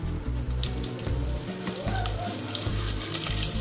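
Mustard seeds and curry leaves sizzling in hot oil for sambar, a steady dense crackle and hiss with no break, close by.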